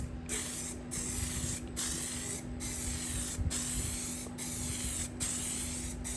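Spray gun laying clear coat over faded car paint in a repair, a steady loud hiss in repeated passes of about a second each, broken by brief gaps between strokes, with a constant compressor hum underneath.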